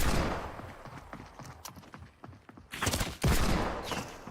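A video game cannon fires amid a rapid crackle of gunfire-like blasts. Two heavy booms near the end stand out loudly over the continuous noise.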